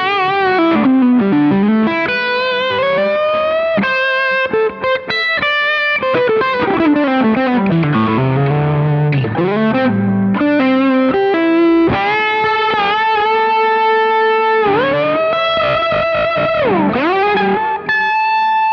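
Electric guitar solo with a Zendrive pedal boosting a Deco drive, a sustained, distorted lead line full of bends and slides, loud and upfront with short delay and some feedback, no voices.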